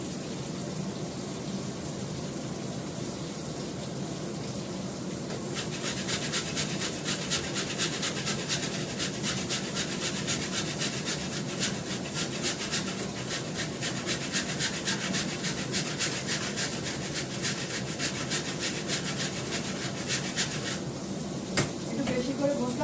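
Ginger is grated on a multi-purpose kitchen grater, giving a steady run of close, rhythmic rasping strokes that goes on for most of the stretch.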